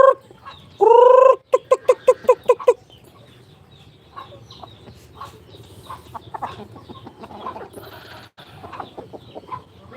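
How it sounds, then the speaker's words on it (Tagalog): Backyard chickens at feeding time: a rooster calls loudly at the start, then a rapid series of sharp clucks, followed by softer scattered clucking and scratching close by. "Papakain po tayo ng manok mga idol. It's feeding time."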